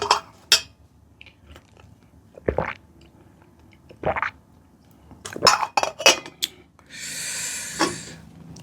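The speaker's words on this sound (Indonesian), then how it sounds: "Kali ini saya makan nasi gorengnya." Spoon and plate clinks with soft chewing and crunching as someone eats nasi goreng, Indonesian fried rice made without soy sauce, alongside roadside sate maranggi; sparse close-up sounds separated by quiet pauses, ending in a brief rustle.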